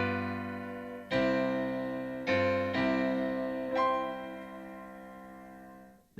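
Four sustained piano-like chords sound one after another, each struck and left to ring, the progression resolving in an authentic cadence on a final chord that slowly fades.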